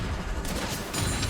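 Rockets from the champion Jinx firing in League of Legends: Wild Rift, a dense burst of overlapping explosive shots that stays continuously loud across the short moment.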